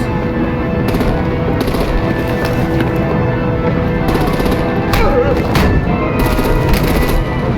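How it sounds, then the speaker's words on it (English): Artillery fire and explosions in a combat video game: dense, continuous booming and rattling gunfire with sharp blasts scattered throughout, loud and sustained, while voices talk faintly beneath the battle noise. "Break out the artillery and disable their vehicles!"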